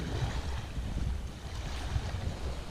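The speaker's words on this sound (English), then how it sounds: "Come on, Bernie, let's go walk on the beach" Waves wash on a beach at La Plage de Kerriac on the North Brittany coast, a steady low rumble of surf mixed with wind buffeting the microphone, with no talk.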